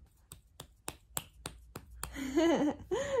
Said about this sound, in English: You're clapping your hands.